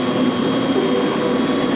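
A steady, loud engine drone fills the air, the continuous whine and thrum of a news helicopter close overhead in a 1970s zombie film.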